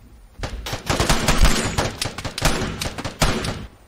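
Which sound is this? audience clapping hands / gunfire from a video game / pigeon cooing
gunfire from a video game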